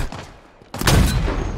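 A sniper rifle shot in Halo Infinite bursts out suddenly after near silence, loud and close, followed by a sustained rumbling tail.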